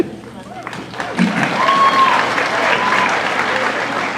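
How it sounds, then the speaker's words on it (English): Polite audience applause at a fan convention in Chicago, a moderate wash of clapping from a crowd that swells and holds steady, with a voice talking briefly at the start. "What a polite applause."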